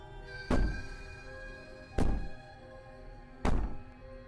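Three heavy, booming thuds against the cabin door in Slay the Princess, evenly spaced about a second and a half apart, each a loud low impact with a short ringing decay over a quiet ambient drone.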